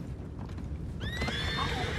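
A horse whinnies loudly in Red Dead Redemption 2 over a steady low rumble of game ambience, with faint hoof clatter and murmuring in the background.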